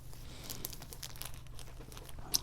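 Crinkly sealed packet of open-pollinated thyme seeds handled up close, giving soft, continuous crackling and rustling with a sharper crinkle near the end.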